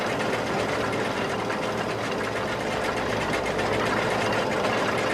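A John Deere-style T7 tractor in Farming Simulator 25 rumbles past as a steady, dense engine drone with a rattling, knocking texture, loud and continuous throughout with no talk over it.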